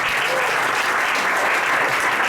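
Steady, dense applause from a business presentation audience fills the room, loud and continuous throughout with no voices rising above it.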